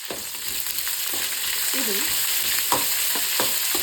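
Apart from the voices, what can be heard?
onion frying in pan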